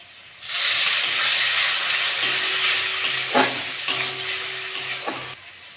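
Ground coriander, cumin and salt sizzling in oil in a pan after a splash of water, a loud steamy hiss that starts abruptly and then settles, with a few spatula scrapes and a low hum, cut off at the end.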